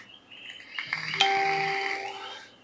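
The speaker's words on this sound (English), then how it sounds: "I think that's the messages." A message notification chime: a short, bright, two-tone electronic ding that rings and fades over a couple of seconds in a quiet room.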